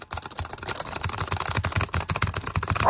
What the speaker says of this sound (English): I swear, if this keyboard does not stop, I'm going to go insane.